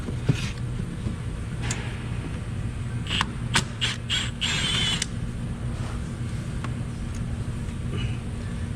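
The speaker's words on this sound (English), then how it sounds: "I'm just going to reach down here and take that 10mm bolt out of there" A ratchet working a 10mm bolt loose on a Nissan Xterra near the transmission dipstick, heard as a run of quick clicking bursts in the middle of steady garage background, close by.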